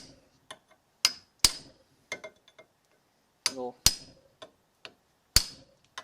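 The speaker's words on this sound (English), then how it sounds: "Just gotta hit it with a hammer and a punch" Sharp metallic hammer blows on a punch driving out a drive shaft bushing on a Cub Cadet, several distinct clanging strikes spaced irregularly, with a brief spoken word between hits.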